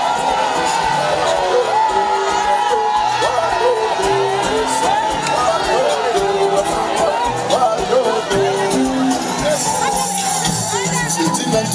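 A mammoth crowd cheers and whoops at an open-air market campaign stop, a dense, loud wall of overlapping voices, yells and shouts with babble running steadily throughout.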